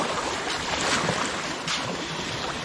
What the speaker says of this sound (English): Looks like we got some rapids.